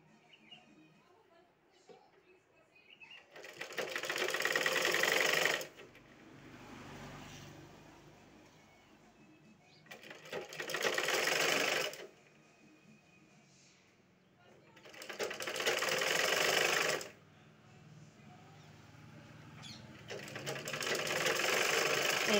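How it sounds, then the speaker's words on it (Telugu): A sewing machine stitches cloth along a folded edge in four loud bursts of running, each lasting a couple of seconds, separated by quieter pauses. "ఇలా ఒకసారి చివరి దాకా కుట్టండి"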